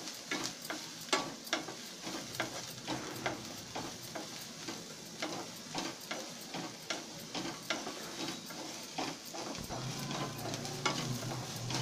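Ginger, garlic and onion fry in a pan for a parwal and yogurt curry, a steady sizzle under repeated scraping stir strokes of a spoon against the pan, close and continuous with no talk.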